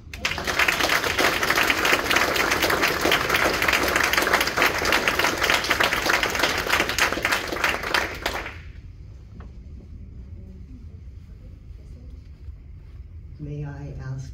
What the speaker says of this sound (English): I would just ask that we all give you a round of applause here